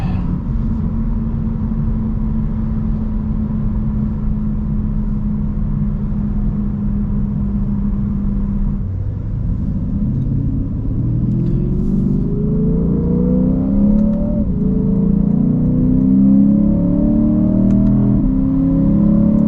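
A Lexus IS500 with a V8 engine cruises with a steady low drone, then accelerates hard through rising gear pulls as the engine note climbs, drops at each shift and climbs again, loud and close from inside the cabin.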